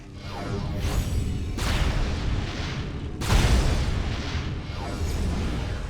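Missile blasts in the sci-fi shooter Metroid Prime 3: Corruption, with heavy booming explosions and rumbling roars, one striking near the start and a louder one about halfway through, each followed by a long noisy decay.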